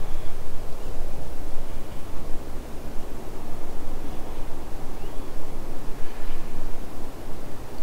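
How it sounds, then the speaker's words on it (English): Steady, soft broadband wind rushing through trees in a resort garden beside a jacuzzi suite, a continuous even hiss with no voices. "The only sounds you hear is a little bit of wind"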